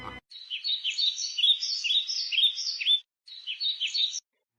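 A myna bird chirps in a Hindi cartoon: a bright, rapid string of high tweets and warbles, clear and close, broken by one brief pause before a shorter final burst.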